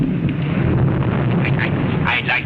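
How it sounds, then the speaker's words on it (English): A deep, rolling rumble of thunder runs continuously under talk, with a few short higher bursts near the end. "that noise you just heard with the thunder"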